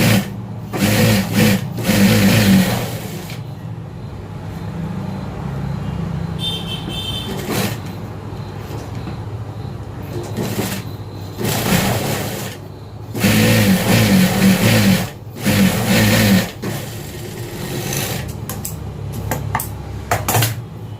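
A sewing machine stitching the folded hem of a plain blouse, running in several loud whirring bursts separated by quieter pauses with small clicks and handling sounds, heard up close.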